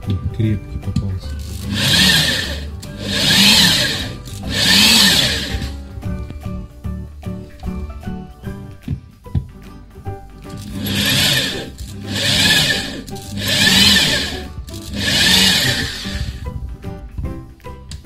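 Drill boring into very hard ceramic wall tile while mounting a microwave bracket, with grinding, whining bursts repeating several times in separate runs and short pauses between, close and loud.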